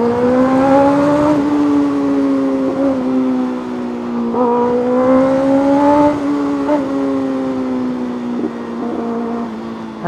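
A 2024 Kawasaki ZX6R motorcycle with aftermarket headers and a remapped engine revs loudly and close, its pitch rising and falling through repeated throttle blips, with no talk.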